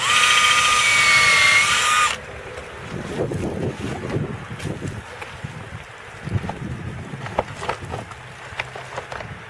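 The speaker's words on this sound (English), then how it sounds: "I'm going to drill it." A short burst of high-pitched power-drill whine, then rough scraping and rustling handling noises with wind buffeting the microphone.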